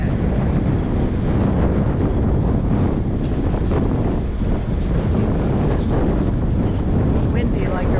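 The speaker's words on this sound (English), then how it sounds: "It's windy like Aruba." Steady, loud wind roars and buffets across the microphone throughout on Curaçao, a continuous rumbling gust with no breaks.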